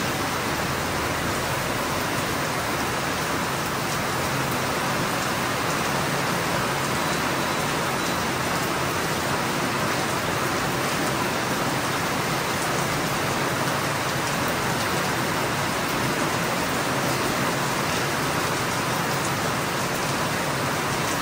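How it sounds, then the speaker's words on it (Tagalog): Heavy rain pours steadily and loudly throughout, a dense broadband hiss with no pauses and no voices, during a typhoon that leaves people soaked outdoors. "Ang lakas ng ulan, grabe."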